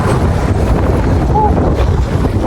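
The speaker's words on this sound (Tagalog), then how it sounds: "Dito lakas ng hangin." Strong wind buffets the microphone with a constant low roar and rushing noise throughout.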